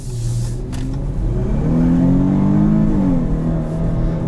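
A 2015 Dodge Charger SXT AWD with a V6 and variable valve timing accelerates with a loud, steady engine drone that climbs in pitch and then eases, heard from inside the car without talk.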